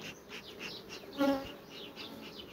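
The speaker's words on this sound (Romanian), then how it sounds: "Acum albinele plâng, le aud că plâng." Honeybee colony after its queen was taken away, a soft continuous buzzing hum close by with a brief louder rise in the middle, no voices.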